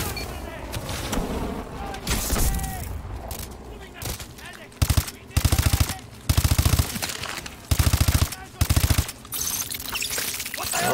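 Machine-gun bursts in Call of Duty: Advanced Warfare, four or five short loud rapid-fire volleys separated by pauses, mixed with explosions, game effects and voices talking.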